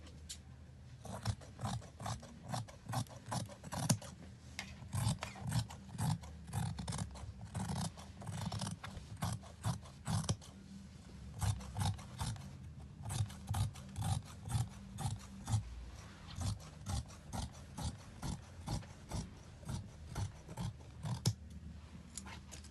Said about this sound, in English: So I'm going to cut everything out now